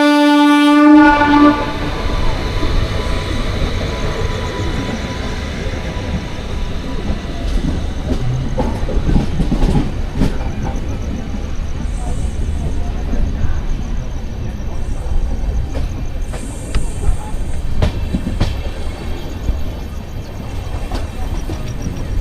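Hampi Express passenger train running from Bangalore toward Hospet, a loud horn blast at the start, then continuous rumbling wheels and rattling carriages with occasional sharp clanks.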